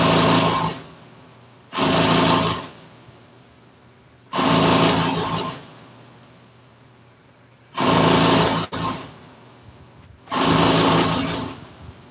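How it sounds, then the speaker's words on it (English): Sewing machine stitching a small loop in seat upholstery for a 1957 four-door car, running loud in four short bursts with quiet pauses between them. "I'm gonna sew it, sew a little loop in it."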